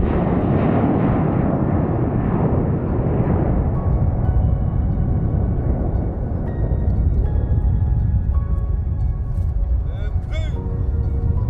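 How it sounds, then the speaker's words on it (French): Presidential jet takes off from a Chad airport bound for Paris, a loud broadband engine roar that slowly fades as it climbs away, with a voice heard over it. "L'Air Force One, ayant à son bord le président de la République, s'arrache du sol tchadien à destination de Paris."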